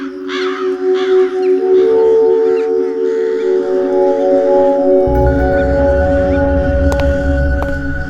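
Crows caw repeatedly near a farm field, harsh calls sounding over a steady background hum and drone, with a low rumble coming in partway through.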